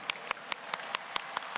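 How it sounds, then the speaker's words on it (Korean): A church congregation clapping together during a birthday celebration in a Sunday service, heard as about eight sharp, evenly spaced claps, fairly faint and with no talking. "이렇게 함께 박수 치면서 또 인사하셨으면 좋겠어요."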